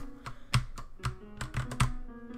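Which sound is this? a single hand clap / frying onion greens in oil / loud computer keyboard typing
loud computer keyboard typing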